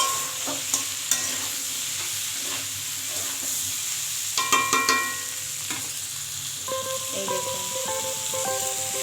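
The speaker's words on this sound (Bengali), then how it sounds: "একটু হলুদ গুঁড়ো অ্যাড করলাম দিয়ে আবারও এই দুটোকে ভালো করে নাড়াচাড়া করে নিলাম" Mixed vegetables for shukto fry with turmeric and chili powder in a pan, a spatula scraping and clinking in bursts over a continuous close sizzle.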